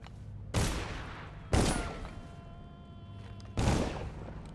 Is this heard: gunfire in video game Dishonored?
yes